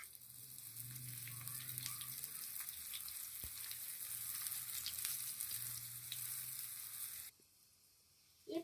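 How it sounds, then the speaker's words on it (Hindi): Aloo paratha fries in ghee on a hot pan with a steady, crackling sizzle, a soft scrape as it is flipped, and a sudden drop to a quieter sizzle near the end. "अभी हम पराठे पे घी डालेंगे और इसके साइड पलट देंगे"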